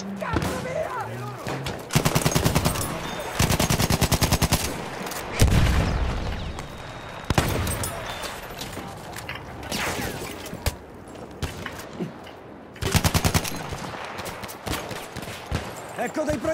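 Bursts of automatic weapon fire and heavy shots crackle through a Battlefield 1 match in repeated loud volleys, with short quieter stretches between them and voices now and then under the shooting.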